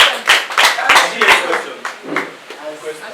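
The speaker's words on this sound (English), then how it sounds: "Let's clap for her" A small group claps for a lecturer at an indoor gathering, several quick uneven hand claps close by that thin out over a few seconds, with voices talking underneath.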